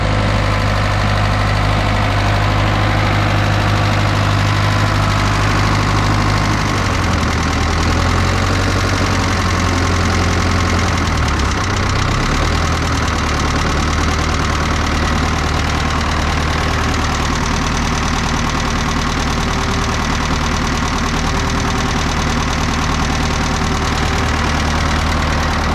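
A Ford 5000 tractor engine running after being started, idling loud and close with a steady low diesel rumble and knocking throughout, its pitch dipping briefly as the revs sag and then recovering.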